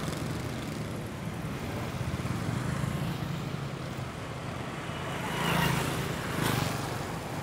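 Steady street traffic in Ho Chi Minh City, with cars and motorbikes passing, forms a continuous broadband roar, and a couple of louder vehicles swell past near the end.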